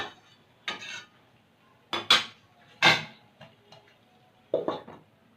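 Metal pot lid lifted off a pan of vegetarian matar paneer on low heat, giving several short clinks and scrapes spaced across a few seconds, close and moderately loud in a quiet kitchen.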